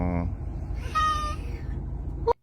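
Winston the cat, wearing a sweater, lets out a drawn-out honking meow close by, over a rumbling background, and the sound ends with a short sharp chirp.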